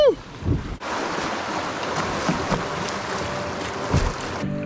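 A kayak moves along an Arkansas wilderness river, with water swishing and splashing in soft, irregular strokes under a constant rush of flowing water and light wind, fairly close.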